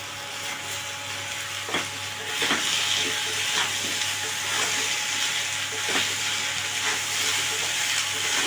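Chunks of bottle gourd and potatoes sizzle in a hot frying pan, a steady close frying hiss broken by soft stirring scrapes every second or so.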